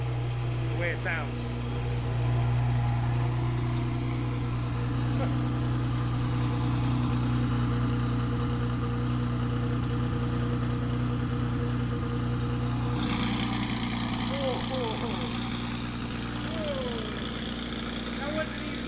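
A Porsche GT4 fitted with a JCR exhaust idles with a steady, deep engine drone throughout, while people talk nearby and a brief shift in tone comes partway through.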